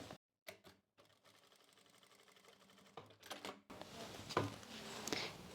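A sewing machine stitches across saree pleats in short quiet bursts with pauses between, then a longer run of steady rapid needle rattling, followed by louder handling noise.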